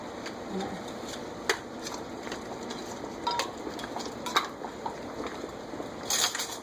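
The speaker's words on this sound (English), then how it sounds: "The water's boiling." Water boiling in a pot with jar lids, bubbling and sizzling with occasional clinks of metal, steady and close, with no speech.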